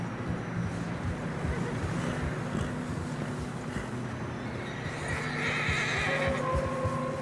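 A horse whinnies over steady crunching hoofbeats through fresh snow in Red Dead Redemption 2, with a constant low rumble and wind noise throughout.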